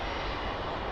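An airplane landing at Lisbon Airport, its engines a loud, steady, close roar filling the whole brief moment with no voices.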